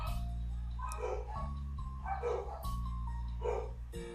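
Dogs bark in repeated bursts at a distance, heard over a steady low electrical hum.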